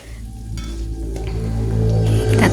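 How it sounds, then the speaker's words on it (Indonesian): Sliced shallots fry in hot oil in a pan for a chicken koto gadang dish, giving a steady, close sizzle that builds slightly louder over a few seconds with no voices. "kita goreng dulu ini bawang merahnya ya"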